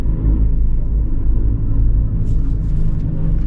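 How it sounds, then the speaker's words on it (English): Deep, loud rumbling roar of a CH-53 helicopter flying low overhead, steady and heavy throughout with no voices. "CH-53 flying low."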